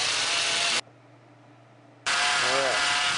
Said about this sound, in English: It's actually sucking the air out of the power steering system, and it's pulling it out the top.